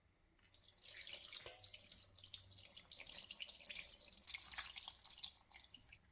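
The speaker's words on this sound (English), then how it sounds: "To evenly distribute the water, we're going to be pouring it through the skimmer." Water for a brinjal biryani is poured through a skimmer into the pot, making a steady hissing splash and trickle that runs for several seconds, close and fairly soft.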